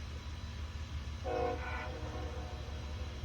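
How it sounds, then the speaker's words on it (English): A freight train, the first one through after a derailment in Chatham, New York, passes at a distance with a low steady rumble and a brief horn blast partway through. "first train after the derailment, IO-22 in Chatham, New York"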